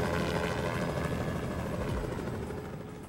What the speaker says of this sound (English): You're telling me nobody heard that helicopter?